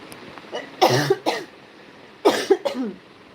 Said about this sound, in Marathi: सर्दी खोकला चालू आहे